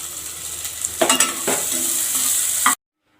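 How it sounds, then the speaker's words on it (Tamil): Small pieces of nendran banana frying in ghee in a pan, a steady close sizzle with a few stirring scrapes before cutting off abruptly. "அதிலே வந்து நம்ம இந்த நேந்திரப்பழம் சின்ன சின்னதாக கட் பண்ண வச்சுருந்த பீஸை வந்து போட்டு நல்லா லைட்டாக வறுத்து எடுத்துக்கலாம்"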